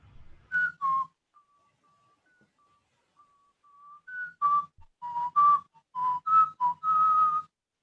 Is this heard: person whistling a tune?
yes